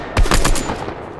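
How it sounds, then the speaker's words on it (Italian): A short, close burst of rapid automatic gunfire from the Fortnite video game, several cracking shots in quick succession that fade out within about a second. "Oh, spari dietro di noi, ragazzi,"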